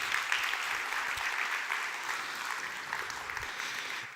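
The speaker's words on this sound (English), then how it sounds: "So a round of applause for our 6 program committee members." An audience applauds the six program committee members at a conference, steady moderately faint clapping sustained throughout with no talk.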